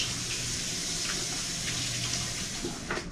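Kitchen tap running steadily into a sink for a quick wash, a continuous close hiss of flowing water with faint clinks near the end.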